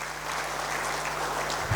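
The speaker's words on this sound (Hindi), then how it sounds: "उनके लिए जोरदार तालियां." Audience applause at an indoor event for insurance advisors: dense, sustained clapping from a roomful of people, loud and even throughout with no voices over it.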